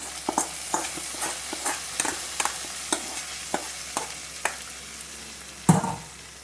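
Browned onions are poured into a dried mackerel and raw plantain curry, with a quiet steady sizzle under a run of rhythmic stirring scrapes. A louder splash and hiss of frying come near the end.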